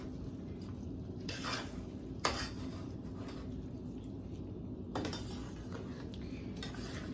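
Rice for Puerto Rican arroz con salchichas (vienna sausages) being stirred in a pot, with a few sharp scrapes and knocks of the spoon against the pot over a soft steady background, close and fairly quiet, no talking.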